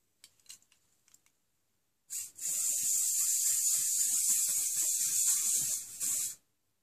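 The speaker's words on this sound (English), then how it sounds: "pop a bit of the BL5 Natural Shine Tamer Shower Spray" BL5 Natural Shine Tamer shower spray misted onto hair as a close, continuous hissing spray lasting about four seconds, after a few faint handling clicks.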